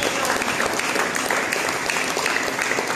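A church congregation applauds in a dense, steady burst of clapping lasting a few seconds, with no voices standing out.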